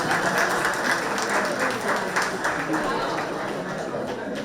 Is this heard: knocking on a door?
no